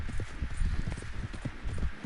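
A horse's hooves clip-clop in a quick, steady rhythm while being ridden in Red Dead Redemption 2, close and moderately loud over a soft background rumble.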